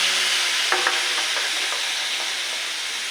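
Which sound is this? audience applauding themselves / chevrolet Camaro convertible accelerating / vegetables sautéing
vegetables sautéing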